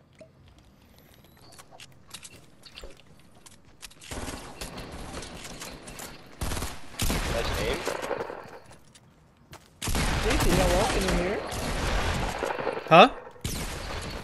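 Automatic gunfire in a shooter video game comes in long loud bursts with a few short pauses between them, while a player talks briefly over the shots.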